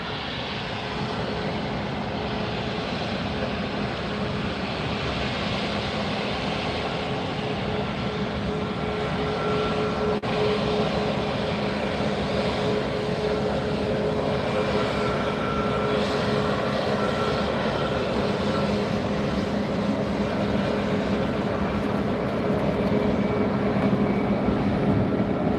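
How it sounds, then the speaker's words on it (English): Southwest Boeing 737 MAX 8 jet taxiing at Fort Lauderdale airport, a steady, moderately distant engine whine and rumble that holds evenly for the full length with no talking. "Taxiing in front of us now, we have a 737 MAX 8, Southwest flight 1283"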